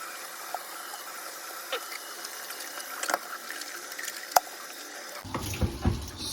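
Tap water streams into and rinses the inside of an electric kettle after descaling and soap washing, a thin steady trickle with small clinks, then a louder gush of rushing water near the end.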